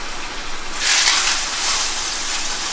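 Chicken drops into a hot pan with safflower oil and sizzles steadily nearby, the hiss swelling louder partway through and then holding.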